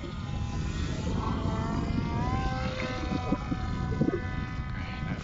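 An RPG v2 autogyro flying, its propeller engine giving a steady loud drone with harmonic whine that rises and shifts in pitch over the whole stretch, with no talk.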